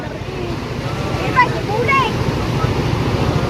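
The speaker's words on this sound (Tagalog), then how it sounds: "Guys, tinan nyo naman kung gaano kalalaki ang alon." Big ocean waves surge and roll in a continuous roar mixed with wind buffeting the microphone, with brief faint voices calling out over the surf.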